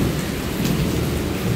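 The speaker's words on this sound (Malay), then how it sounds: "Hujan nak." Heavy rain pours at the mini waterpark of Nilai Springs Resort Hotel, a loud continuous wash of drops with low thunder rumbling underneath, steady and unbroken.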